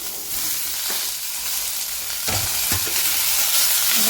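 Tomatoes fry in a pan with onion and curry leaves, giving a steady broadband sizzle with a few scraping stir strokes from the spoon, close and fairly loud, no talking.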